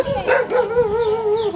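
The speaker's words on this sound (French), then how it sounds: "Nous avons l'accueil des chiens." Dogs greet walkers on a hiking trail from Wat Dipankara on Koh Samui, Thailand, giving a loud, close, drawn-out howling bark that wavers in pitch for over a second.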